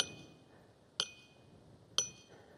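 Two sharp metallic strikes about a second apart, each leaving a bright ringing tone that decays slowly over a quiet background.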